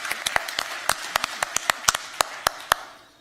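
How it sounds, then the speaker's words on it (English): A small conference audience claps in scattered, sparse hand claps, a dozen or so distinct sharp claps close by that taper off after about three seconds. "please, a round of applause for everybody who contributed to this"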